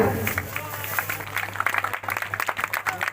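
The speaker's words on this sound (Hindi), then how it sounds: "इनके लिए जोरदार तालियां।" Audience at a public welcome event in a ward of Udaipurwati claps in a dense burst of applause, with a steady low hum beneath and voices mixed in.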